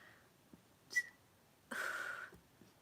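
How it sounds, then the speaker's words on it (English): A short tonal whistle followed by a longer, raspy burst with a whistled pitch running through it, both close and fairly quiet. "I can't believe I just burped and whistled at the same time."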